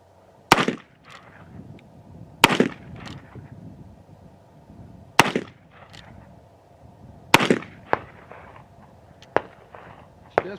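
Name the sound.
gunshots from an Uberti Richards Mason revolver firing cowboy loads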